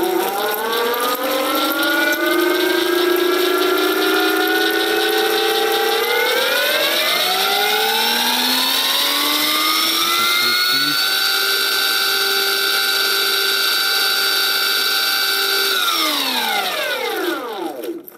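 A CYC X1 Stealth e-bike mid-drive motor runs loud and continuous, its whine climbing in pitch as it speeds up, holding steady, then dropping away at the end, with a faint rubbing from the gearbox noticeable at lower speeds.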